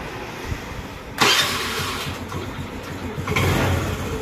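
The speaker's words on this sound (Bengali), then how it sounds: "বাইকটা আমরা ইগনিশন অন করে স্টার্ট।" A Honda Activa scooter, ignition switched on, starts with a sudden burst of engine noise, then runs on at a steady close hum with a second surge near the end.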